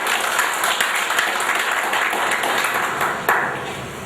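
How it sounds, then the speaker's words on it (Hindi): Audience applause in a hall in Allahabad, a dense, steady wash of clapping that holds at an even level for about four seconds with no voice over it. "उनके लिए एक बार जोरदार ताली"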